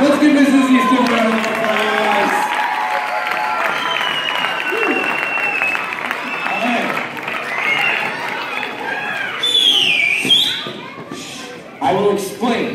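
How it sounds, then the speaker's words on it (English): Audience applause at a school show in Anchorage, Alaska, a steady loud wash of clapping with crowd noise and voices mixed in, easing and then swelling briefly near the end. "Let's give Mrs. Easton a round of applause"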